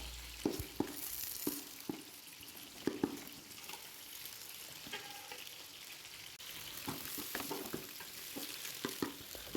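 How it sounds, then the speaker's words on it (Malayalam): Beaten eggs cooking in a pan for chicken fried rice, with soft sizzling under repeated scraping and tapping of a spatula stirring and breaking them up, fairly quiet and close. "ഇനി നമുക്ക് കോഴിമുട്ട ഒഴിച്ച് കൊടുക്കാം കേട്ടോ"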